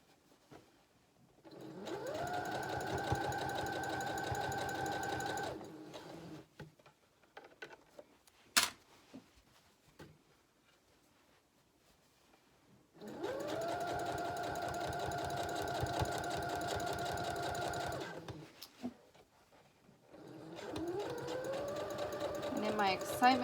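A sewing machine runs in several sustained bursts, stitching elastic onto a romper neckline, its rapid mechanical whir close and clear, with quiet pauses and small clicks between runs.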